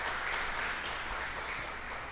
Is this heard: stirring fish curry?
no